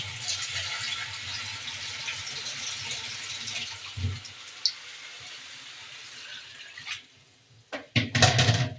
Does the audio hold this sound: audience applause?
no